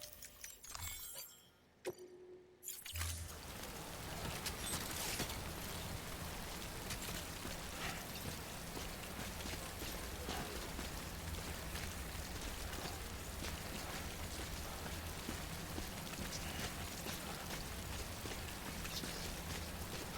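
Timefall rain in the video game Death Stranding, a brief quiet stretch with faint glassy ticks, then a steady, dense hiss of rainfall that stays even and fairly close for the rest of the clip.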